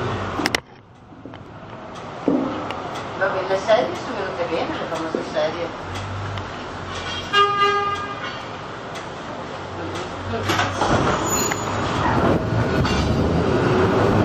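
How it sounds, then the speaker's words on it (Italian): A tram runs along its rails through a city in Milan, giving a steady rumbling ride with rolling wheel noise, a faint squeal and clicks, while people talk nearby. "siamo sul tram"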